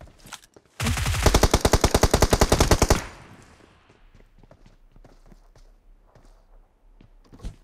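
Automatic gunfire in the mobile game PUBG Mobile: a loud rapid burst of about two dozen evenly spaced shots lasting a couple of seconds, followed by quieter scattered clicks and footsteps.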